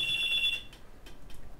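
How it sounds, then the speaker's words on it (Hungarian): A telephone rings in an office-like setting with a bright electronic trill lasting about half a second, followed by quieter faint bleeps and low background noise. "Föl kell vennem, már megint csörög a telefon"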